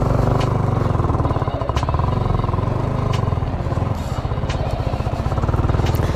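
A Yamaha R15M motorcycle ridden off-road through soft sand, its engine running loud and close with a steady, throbbing drone for the whole stretch and faint rattles over the top.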